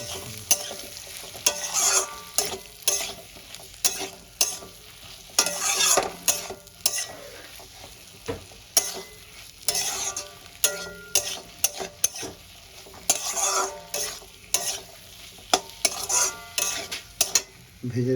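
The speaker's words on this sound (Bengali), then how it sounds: "এবার আমি ভেজে রাখা আলুটা দিয়েও কষাতে পারবো।" Fried potatoes being sautéed in a spice masala in a pan for an aloo begun sabji, with soft steady sizzling under repeated scraping and stirring strokes of a spatula against the metal pan.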